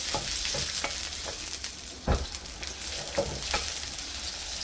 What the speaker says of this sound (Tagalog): Tapos garlic. Tapos i-sautein natin dito.